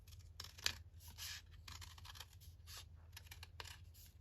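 Faint, close snips and rustles of scissors cutting a folded paper heart, coming in short irregular bursts at low volume.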